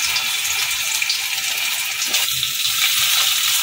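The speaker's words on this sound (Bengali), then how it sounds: "এখন সেদ্ধ করে রাখা, ভাপিয়ে রাখা গাঠিগুলোর মধ্যে দিয়ে দেবো।" Steamed taro corms hitting hot cumin and chilli tempering in a pan set off a loud, steady hiss of frying that runs without a break throughout.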